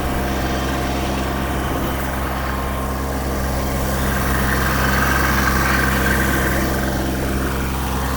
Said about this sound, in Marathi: 24 HP ला पण हा रोटावेटर चालतोय.